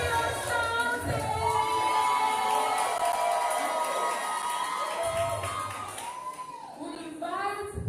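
A student audience at a debate competition shouts, whoops and cheers loudly for several seconds, a dense crowd roar with high voices and some clapping, fading slightly before rising again.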